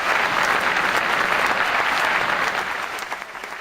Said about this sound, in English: Let's give him a round of applause as he gets set up and takes his spot here